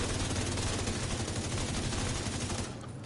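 Rapid, continuous automatic gunfire rattles at the shooting range in The Division 2, a dense, loud burst that cuts off and thins out at the end.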